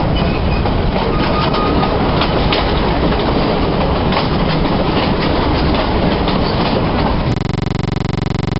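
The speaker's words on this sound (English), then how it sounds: "now we're back on the train back to Cusco." Interior of a train travelling from Aguas Calientes back to Cusco in Peru, a loud, continuous rumble of wheels and carriage noise with faint rhythmic clicking, steady throughout with no voices.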